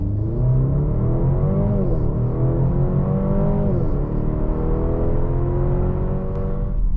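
A Maserati Grecale GT accelerates hard on the road, its engine note climbing through the revs, dipping briefly at each gear change and rising again, loud and close from inside the cabin.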